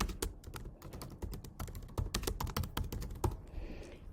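Typing on a computer keyboard while composing a public post, a steady run of close, crisp key taps with irregular rhythm and a few heavier strokes, no voices.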